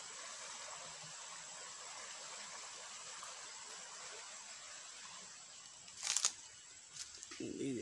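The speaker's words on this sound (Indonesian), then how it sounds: "di bawahnya itu sungai" A river flows below fruit trees, mangosteen and orange, in a rural orchard, giving a steady, soft rushing wash that stays faint and continuous, with a brief clatter near the end.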